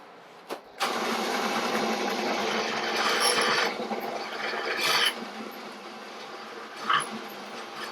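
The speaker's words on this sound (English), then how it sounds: "Take it over to the drill press and drill it." A drill press bores into a metal ratchet plate for a 1959 XLH transmission. After a brief tap, the steady whirring grind runs for about four seconds, then eases off, followed by a couple of faint clicks.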